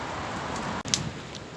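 Light rain falls at an outdoor campfire on a floodplain during a storm, a steady close patter of drops with no talk over the brief stretch.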